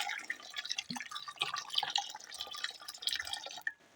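Boiled water is poured over store-bought molds sprinkled with baking soda, giving a close, busy splashing and dripping with fizzy crackle for a few seconds before it stops.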